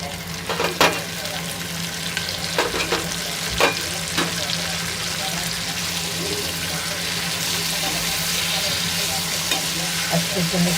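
Chopped tomatoes are stirred into browned onions frying in a pan for a chicken curry, with steady oily sizzling and scraping stirs throughout, close and continuous.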